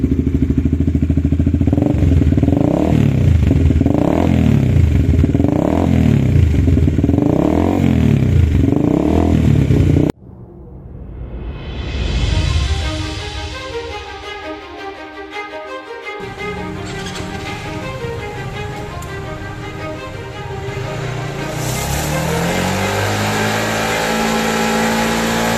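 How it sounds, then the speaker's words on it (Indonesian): A motorcycle idling with a loud Creed racing exhaust, then revving hard and settling into a rough, rumbling idle with rising throttle blips. "Nah, pakai knalpot racing, coba geber dikit-dikit lah."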